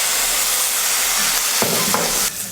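Steady broadband sizzling of black pepper and cumin frying in a hot pan for mint curry, with a few soft clinks as they're stirred; no voices.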